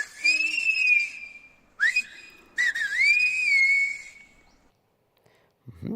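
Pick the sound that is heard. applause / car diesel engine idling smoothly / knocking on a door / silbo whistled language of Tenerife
silbo whistled language of Tenerife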